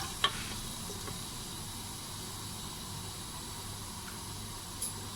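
Cumin seeds frying in hot oil give a soft, steady hiss that runs unbroken throughout, with a faint tap near the start and another near the end, no speech.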